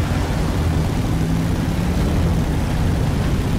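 A helicopter in the video game Beyond: Two Souls gives a steady, loud, low rotor and engine drone that fills the whole stretch without a break.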